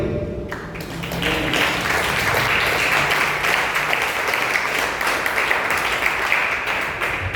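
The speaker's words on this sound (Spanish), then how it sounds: "Den un aplauso al Rey." A church congregation breaks into loud, continuous clapping after a brief moment of voice at the start, holding steady and dense for several seconds.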